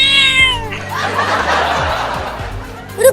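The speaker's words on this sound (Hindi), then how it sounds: "ये बिल्ली अपनी दांतें दिखा रही है हमें काटने के लिए" A cartoon cat gives a high, wavering meow and then a long, rough hiss, loud and close, with brief laughter-like bursts around it.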